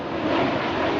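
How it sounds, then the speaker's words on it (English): Loud, steady roar of a low-flying fixed-wing airplane passing overhead in New Jersey, a dense engine rumble that stays strong throughout. "Did you see that plane right there?"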